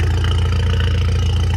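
A tuned Stage 2+ four-cylinder BMW 330i engine runs close by with a deep, steady throbbing drone, heavy low rumble and slight pulsing, unchanging across a short stretch with no voices.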